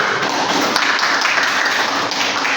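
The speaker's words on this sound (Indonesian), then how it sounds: "tepuk tangan dulu untuk Ayu" Classroom applause for a student named Ayu, a dense continuous patter of many hands clapping together, fairly loud and close.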